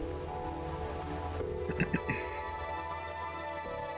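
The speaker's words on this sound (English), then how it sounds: "The hills are alive with the sound of raining." Rain falling in the video game The Darkside Detective, a steady soft hiss running throughout, with a few brief brighter chirps midway.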